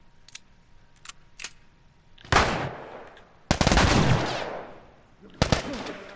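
Gunfire in The Last of Us: three loud close shots, each followed by a trailing reverberant tail, with a few faint clicks and small handling noises before them.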